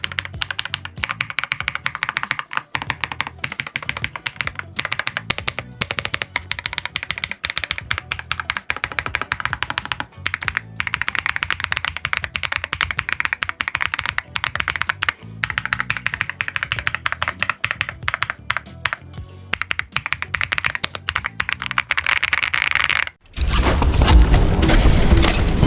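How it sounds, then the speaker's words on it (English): Close-miked typing on a Rapoo V700DIY-98 mechanical keyboard, a continuous rapid stream of soft, creamy key clacks with brief pauses, ending in a louder burst of noise. "I'm gonna put my microphone nice and close to the keyboard here"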